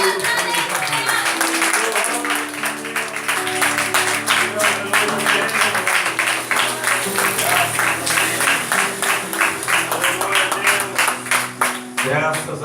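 A church congregation claps rhythmically and steadily through a sustained keyboard and organ-like worship music, the claps loud and continuous across the whole stretch.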